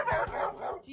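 A Rottweiler guarding its yard gives a few sharp, close barks in quick succession, with a faint whimpering tone near the end.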